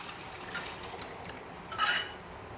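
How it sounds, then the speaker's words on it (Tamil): Tamarind water is poured into a pan of tempered onions, giving a soft, close, liquid splash and trickle that swells briefly near the end. "இப்போ கரைச்சி வச்சுருக்கோம் இல்லையா இந்த புளி கரைசல், அது நல்லா கலந்து விட்டு இந்த வெங்காயம் தாளித்ததில் கொட்டிக்கலாம்"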